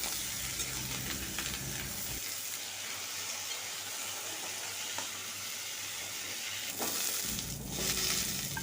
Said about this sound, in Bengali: আর বেগুনগুলোকে ভাজার সময় আমি শুধুমাত্র এখানে হলুদ গুঁড়ো ব্যবহার করব, লবণ দেবো না।